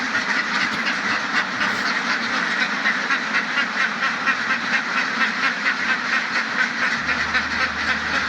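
A flock of ducks quacks continuously and noisily, many overlapping calls forming a dense, steady chorus close by.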